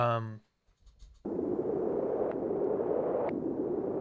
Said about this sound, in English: I started with like this noise from the Juno, and then automated some frequency shifter, got some echo on it, and then with auto pan.